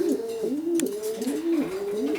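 A breeding pair of racing pigeons coos close and clear, repeated rolling calls coming in a steady rhythm about every half second.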